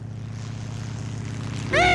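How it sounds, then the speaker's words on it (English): A rescue plane in a cartoon sea scene drones as a steady propeller engine hum flying overhead, fairly loud and continuous, with a brief music swell at the end. "It's a rescue plane."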